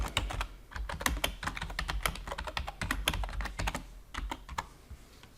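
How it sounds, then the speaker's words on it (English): Rapid typing on a computer keyboard, a steady run of close, crisp key clicks with brief pauses, heard alone without speech. "just type that token in"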